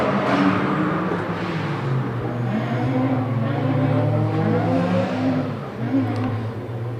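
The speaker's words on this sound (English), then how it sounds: "The 250 kilowatt Golf 4 GTI now in the right hand lane." A 250 kW Volkswagen Golf 4 GTI accelerates hard down a quarter-mile drag strip, its engine climbing through rising gears with loud, continuous revving and a brief dip at a shift near the end.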